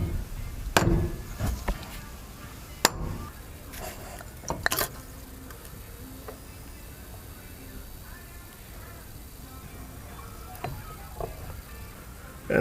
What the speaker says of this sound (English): Using a rubber mallet, now we can hit this gently to remove the spindle assembly.